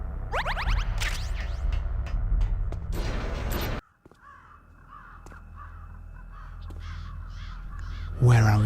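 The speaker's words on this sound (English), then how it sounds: "What's with all the crows around here?" Crows caw repeatedly in Metal Gear Solid Twin Snakes, with harsh calls rising over steady game ambience and someone talking over much of it.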